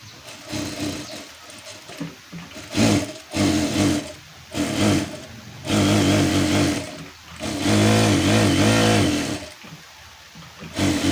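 A sewing machine stitches the lining onto a round neckline in repeated close bursts of whirring, stopping and restarting several times, with no talk over it.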